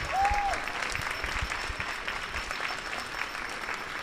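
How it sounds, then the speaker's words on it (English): Spectators at a junior curling bronze medal game clap for Team Japan, a steady spread of applause in a large arena, moderately distant, with a brief whistle-like tone near the start. "you can probably hear a bit of clapping on the background"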